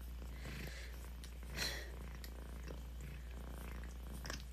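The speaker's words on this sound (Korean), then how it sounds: "골골성이 심하네." A cat purring close by, a soft rhythmic rumble of repeated breaths that keeps a steady cycle throughout, with a constant low hum beneath it.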